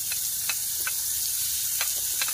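Garlic sautéing in a pan for a yellowfin tuna dish, a soft steady sizzle with occasional light clinks of a utensil against the pan, nearby and fairly quiet, with no talking.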